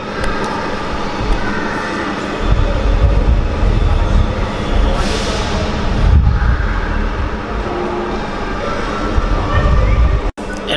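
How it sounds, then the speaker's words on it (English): Loud, busy train station ambience in Aveiro, Portugal: a rumbling train and mechanical roar with echoing noise and voices underneath, building and fading over several seconds. "Train station."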